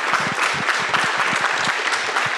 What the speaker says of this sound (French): Je pense qu'on peut à nouveau vous applaudir pour votre intervention